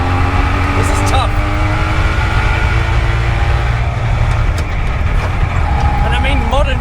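A Goggomobil Dart microcar driven from inside, its small engine droning steadily and loud throughout, with rising and falling revs and a brief gear-change dip near the end.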